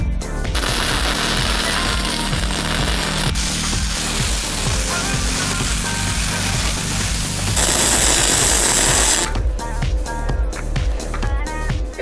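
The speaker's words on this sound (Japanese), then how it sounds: "これを一旦本溶接しちゃいましょう。" Chain is welded into a rear fender for a restored Aprilia Classic 50 motorcycle. A steady, loud crackling buzz carries rapid popping textures and shifts in tone through several passes, close up, with no voices.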